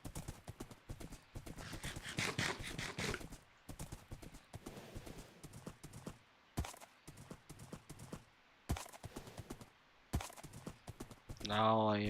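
Horse hooves clip-clop in a video game: bursts of steady trotting that start and stop, with a short whinny near the end and someone talking over parts of it.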